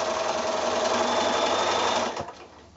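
A sewing machine stitches quilt block squares in one fast, steady whirring run that stops abruptly near the end, close and loud with no talking.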